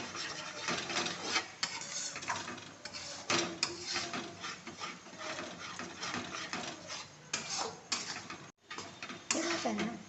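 Egg bhurji stirred in a pan over a full gas flame, an irregular scraping and rubbing that runs steadily throughout, with a voice speaking over it.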